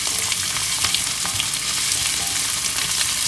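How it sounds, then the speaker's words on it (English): Vegetables and onions sizzle and fry steadily in a pot for one-pot vegetable biryani, a dense continuous crackle with occasional stirring scrapes, close and loud with no talking. "And then we're going to saute this a little bit."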